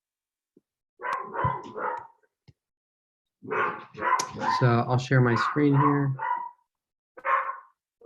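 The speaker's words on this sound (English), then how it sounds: "Yep, that's my dog." A pet dog at home gives a few sharp barks early on and another near the end, fairly close, while a person speaks in between.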